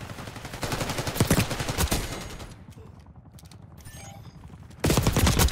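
Dense bursts of rapid gunfire in the video game Black Ops 6, loud crackling volleys that fade briefly before a sharp renewed burst, with no talk over them.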